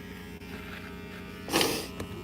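A buzzing electric shaver trims beard hair around the upper lip, a steady close hum with a brief louder rasp as it presses against the stubble.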